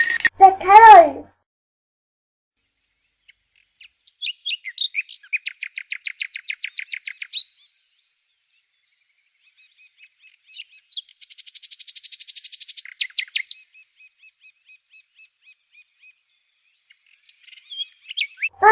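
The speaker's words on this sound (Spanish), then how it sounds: "Pájaro." Birds chirping in rapid repeated bursts of bright high tweets, separated by silent gaps, clear and fairly near, with a brief spoken word at the start.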